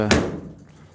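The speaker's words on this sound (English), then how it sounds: "door closes real easy now." One solid thunk of a 1929 Chrysler car door shutting, close and fairly loud, fading quickly into quiet.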